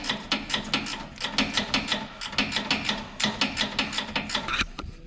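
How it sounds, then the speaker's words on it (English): A gear wrench ratchets as it backs off the 15 mm rear sway bar bushing bolts on a 2003 Ford Explorer, making a steady run of rapid, close mechanical clicks with no talking. "You can just use a gear wrench and back those right off."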